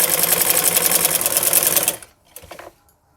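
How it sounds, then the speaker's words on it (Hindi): Sewing machine running a line of stitching along the folded bottom hem of a pair of ladies' trousers, a fast, loud, steady whir for about two seconds, then stopping, followed by a few faint clicks. "इस तरह से इनको फोल्ड करेंगे या किनारे से सिलाई लगाएंगे।"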